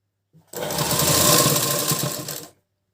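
A sewing machine runs one steady two-second stitching burst on a blouse, close and alone.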